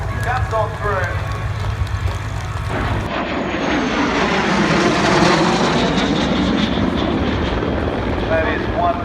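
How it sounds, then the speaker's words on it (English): An aircraft roars past at an air show, its loud engine swelling and shifting pitch as it passes overhead, with an announcer talking over the noise. "That is one beautiful aircraft."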